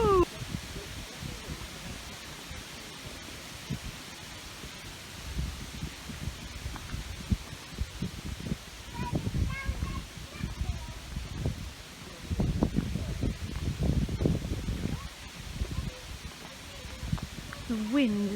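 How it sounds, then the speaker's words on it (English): Hilltop breeze on a hot day buffets the microphone with low rumbling gusts that swell and fade irregularly, loudest in bursts toward the middle and end, with faint rustling beneath. "So nice on such a hot day to have such a lovely hilltop breeze."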